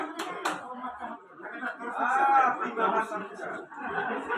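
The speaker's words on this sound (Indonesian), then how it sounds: "Kita beri tepuk tangan untuk mereka" Guests at a wedding clap together in a mixed, uneven burst, mostly under lively chatter and a little laughter nearby.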